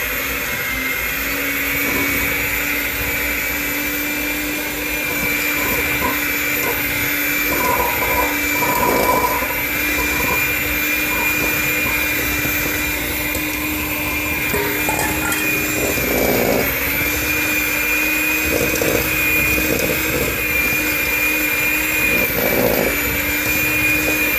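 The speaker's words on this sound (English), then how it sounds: "So I'm going to cream in the butter and the sugar." An electric mixer creams butter and sugar for oatmeal cookie dough, a steady loud motor whir running unbroken throughout with faint rhythmic scraping swells.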